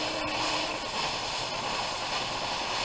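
An oxy-fuel gas torch cutting through metal gives off a continuous broad, steady hiss, loud and close, with no voices over it.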